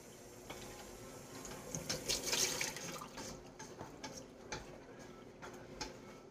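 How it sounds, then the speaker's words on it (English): Tap water runs into a kitchen sink while a pan is rinsed, a steady splashing wash with brief louder surges and small clinks, fairly close and without talk. "Just run some water under it and dry it out."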